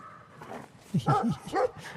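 A dog in the video game Brothers: A Tale of Two Sons gives a few short close barks and yips in quick succession, fairly loud, with no talk over them.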